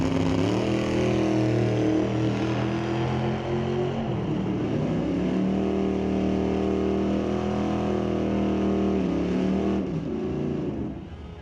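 Loud engine roar from several race cars qualifying at a racing event, holding a steady droning pitch that shifts and dips midway, close and continuous with no talk.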